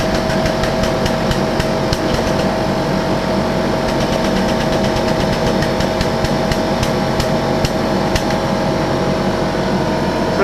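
A 12-ton shop press crushing metal: a loud, steady mechanical drone with rattling clatter and sharp metallic ticks throughout, close up, without speech.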